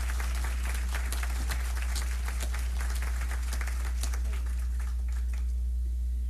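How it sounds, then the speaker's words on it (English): Applause from an audience at a school district board of education meeting, a moderate patter of clapping hands over a steady low hum, tapering off in the last second. "Round of applause"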